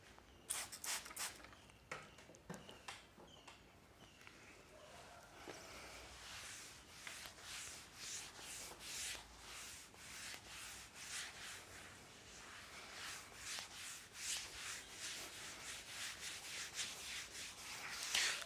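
An eraser rubbing against a classroom board makes a soft, continuous scrubbing with rhythmic back-and-forth strokes, faint and close, with no talking.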